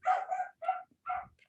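A dog gives three quick, close barks, fairly loud and crisp against near silence, with a short gap between each yip.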